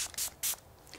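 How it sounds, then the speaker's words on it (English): Two quick hissing pumps of a hydrating face mist serum sprayed onto skin, close and soft, with a fainter third puff after. "spray my skin with a Dalba first spray serum"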